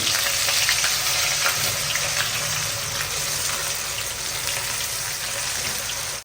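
Batter-coated pieces fry in very hot oil with a dense, continuous hissing sizzle, loud and close, before cutting off abruptly at the very end.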